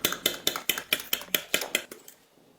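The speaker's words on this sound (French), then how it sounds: "On mélange avec précaution" A utensil stirring a seasoned egg mixture in a bowl gives about ten quick, evenly spaced clinks against the bowl, loud and close, then fades into quiet.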